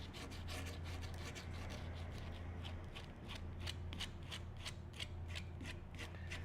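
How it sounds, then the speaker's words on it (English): Dried resin on a canvas is sanded by hand in quick, rhythmic rasping strokes, close and steady over a faint low hum, with no talking. "We're definitely going to have to sand this all down."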